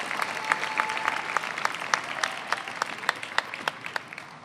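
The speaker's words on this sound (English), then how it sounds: "One more round of applause for Eli" A crowd applauds at a College for Creative Studies commencement ceremony, a broad steady patter of clapping with a few sharper individual claps standing out, gradually thinning toward the end.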